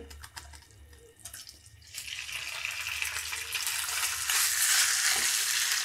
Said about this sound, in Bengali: মিডিয়াম আঁচ করে মাংসটাকে পাঁচ থেকে দশ মিনিটের মতো নাড়ার উপরে রেখে ভেজে নিতে হবে